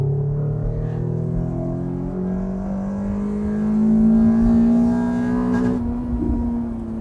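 A Toyota MR2 SW20 engine climbs loudly through second gear toward the red line, a rising droning tone that swells and then drops off near the end, heard from inside the car.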